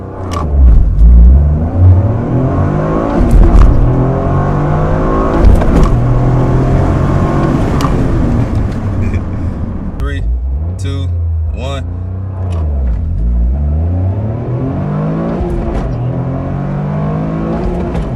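A Toyota GR Corolla with 50-50 torque split launches hard from a standstill toward 60 mph, its engine loud and close as it revs up through repeated rising sweeps with gear changes, while a voice can be heard over it.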